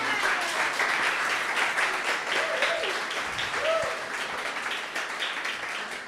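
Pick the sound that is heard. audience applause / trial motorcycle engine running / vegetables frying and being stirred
audience applause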